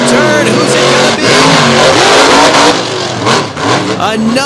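Monster trucks at a Lake Erie show roar with engines at full throttle while tires spin and smoke, a loud, close, continuous revving with rising pitches and a brief dip near the end, under an announcer's commentary.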